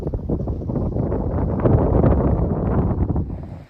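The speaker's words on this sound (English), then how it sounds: "A little windy today, but gorgeous." Wind gusting across the Maybach Blanchett Bridge over the St. John River in Maine, a steady low roar of buffeting against the microphone that holds for several seconds before cutting off.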